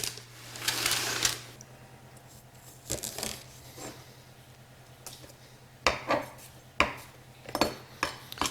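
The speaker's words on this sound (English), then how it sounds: "Just going to kind of cut up the remainder so I'm not wasting the end of the onion here." Knife chopping the end of a red onion on a cutting board, with scattered sharp close knocks that come faster and more regularly toward the end over a soft background hum, with no talk.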